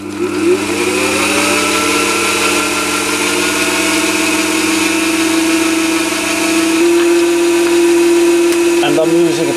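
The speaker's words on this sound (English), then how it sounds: "I've got the Chinese mini lathe set in the low gear" A Chinese mini lathe runs in low gear at about 400 RPM, a steady motor whine with a sustained tonal hum that holds evenly throughout and shifts slightly near the end.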